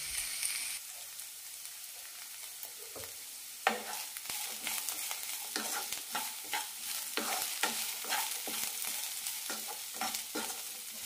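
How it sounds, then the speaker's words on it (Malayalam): Cabbage chutney mixture with salt and Kashmiri chilli powder is sautéed in a pan, with a soft sizzle under repeated, rhythmic spatula scrapes and knocks that start after a quiet opening, close and without talking. "അര ടീസ്പൂൺ കാശ്മീരി മുളക് പൊടി കൂടി ഇടാം. നന്നായി വഴറ്റാം."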